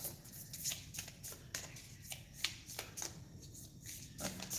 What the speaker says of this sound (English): A little bit difficult to shuffle because they're new, but I have separated them all.